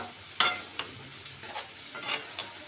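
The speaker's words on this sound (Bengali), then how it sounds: "আমি নেড়ে চেড়ে আবার একটু মিক্স করে দিচ্ছি যাতে কড়াইতে না লেগে যায়।" A spoon scrapes and stirs through a taki fish curry with tomatoes in a kadai, a few distinct scraping strokes over a faint ongoing sizzle.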